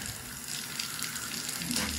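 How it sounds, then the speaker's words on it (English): Water runs steadily from a bathtub faucet with a shower diverter, a constant close hiss and splash with no talking over it. "when I turn on the water, comes out of there fine"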